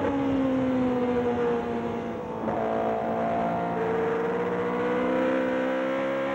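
A Formula 1 car driven flat out through the pine forest at Hockenheim, heard from onboard: a steady, loud engine note climbs and shifts gear once, with constant wind and road roar throughout.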